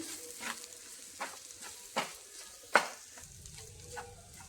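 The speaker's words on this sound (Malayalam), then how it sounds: "ഇനി നമുക്ക് ഈ മുട്ടയും കൂടി നന്നായിട്ടൊന്ന് ഇളക്കി തോരത്തിനോട് യോജിപ്പിച്ച് കൊടുക്കാം" Egg being stirred into soybean thoran in a frying pan: soft sizzle beneath a handful of spoon scrapes and taps on the pan, close and moderately quiet, no talk.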